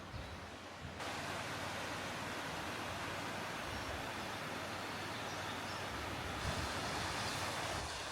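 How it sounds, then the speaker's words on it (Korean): Water rushing steadily through a rocky basalt-columned canyon of the Hantan River in Korea, heard from a bridge as a continuous broadband roar with no voices. "다리 왼편으로는 협곡 사이로 흐르는 물줄기를 볼 수 있습니다."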